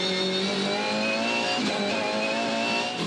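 Race car engine (Craig Lowndes' touring car) revving hard and short shifting from first into second gear, a loud, close, continuous high-pitched engine note with shifting pitch steps, no talk.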